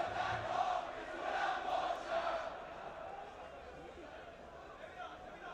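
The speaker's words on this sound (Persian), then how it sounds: "در تیم داماش گیلان تشویق میکنن تیم خودشون رو" Damash Gilan football fans cheer in a stadium: a distant, fairly faint roar of massed chanting voices that is louder at first and then settles into a steadier crowd murmur.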